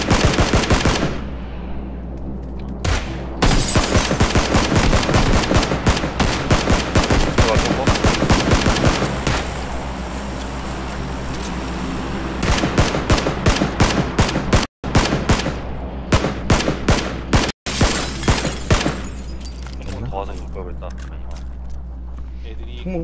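Bursts of automatic gunfire in PUBG: Battlegrounds during a squad fight, loud rapid volleys and single shots with short pauses, as players talk over the shooting.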